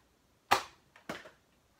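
A Nerf Rival Cronos blaster fires, shotgun style, with a sharp close pop followed by a quick click and a second snapping burst, brief and fairly loud against silence.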